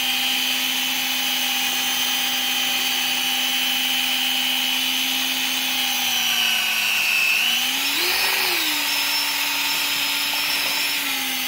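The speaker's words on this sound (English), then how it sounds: "Now we're going to stir it in there." A motorized degassing stirrer whirs steadily while mixing sugar into wine must, a constant high-pitched drill-like whine with a brief dip and rise in pitch as the load on the paddle shifts, with faint rubbing and sloshing underneath.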